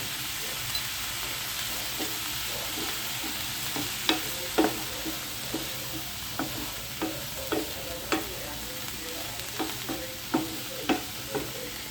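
Ginger and garlic frying in a pan for a Kerala thoran, a low constant sizzle broken by a steady series of light spatula scrapes and taps roughly every half second, close and fairly quiet.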